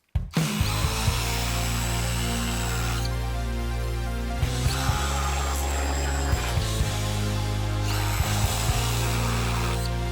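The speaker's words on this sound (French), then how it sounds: "Et pour ça, la scie sabre" A reciprocating saw runs steadily for ten seconds, loud and close, its harsh buzzing tone dipping briefly now and then as it bites through pallet wood.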